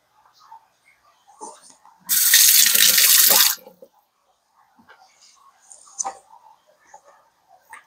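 Low sodium beef broth pours into a soup pot in one steady, loud splashing stream lasting about a second and a half, with soft speech before and after.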